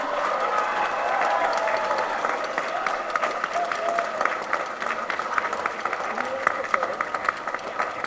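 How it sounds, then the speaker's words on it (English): Sustained applause from a large crowd at a 2019 high school graduation ceremony, dense steady clapping with occasional louder claps, with voices mixed in under it throughout. "Now we can clap for the entire class of 2019."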